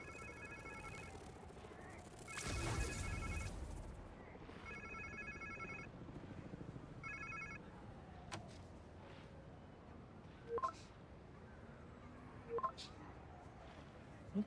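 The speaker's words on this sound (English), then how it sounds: "Sounds like somebody's phone." A phone rings in a video game, sounding in repeated electronic trilling bursts amid quiet ambience and a loud whooshing swell, followed by sparse clicks and soft thuds.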